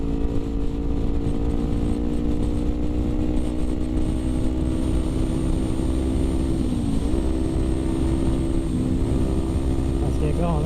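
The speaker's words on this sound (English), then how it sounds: "for being a 250, it's honestly, it's a pretty good bike. It gets up there quick." A Kawasaki Ninja 250R motorcycle drones steadily at high revs from the rider's position, its engine note dipping briefly at shifts before climbing again, with constant loud wind and engine noise throughout.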